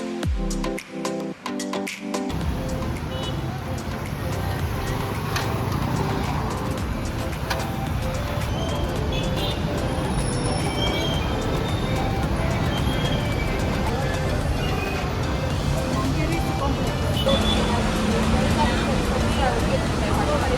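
Dense, chaotic street traffic in Kampala heard from a moving motorbike, a steady loud roar of engines and road noise with crowd babble and voices throughout, after a brief lower rumble at the start.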